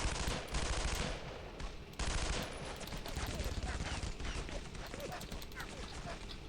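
Gunfire rattles through the World War II shooter Brothers in Arms: Road to Hill 30, dense overlapping bursts and shots from nearby and farther off, sustained throughout amid battle noise.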